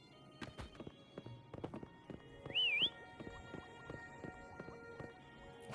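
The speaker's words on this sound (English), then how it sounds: "Why don't you call Foam over? Try whistling." A player in Wuthering Waves whistles once to call Foam: a short, clear, wavering tone about a third of a second long, over soft clip-clopping hoofbeats and light game ambience.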